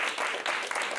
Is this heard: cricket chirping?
no